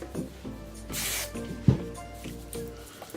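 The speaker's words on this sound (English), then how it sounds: "on the other side, lift it up and just spray as I release everything." Hairspray misted onto lifted sections of hair while styling beach waves: a single short, close hissing burst in the middle, with soft background music and light handling noises around it and no talking.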